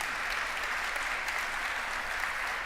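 An audience at a university academic ceremony applauds in a steady, uniform wash of clapping, moderately quiet and sustained without pause across the whole stretch.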